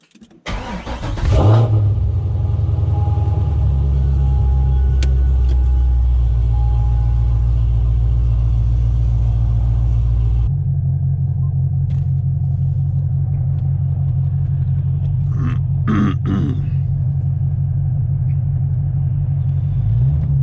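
A C6 Corvette on Firestone Firehawk Indy 500 tires gives a loud, close, steady engine rumble as it pulls away, with a sudden drop in tone partway through and brief chattering bursts near the end suggesting wheel hop.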